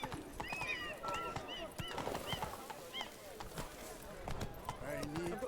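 Geralt's horse Roach in The Witcher 3, hooves clip-clopping steadily at pace with occasional whinnies, faint, while other voices talk over it.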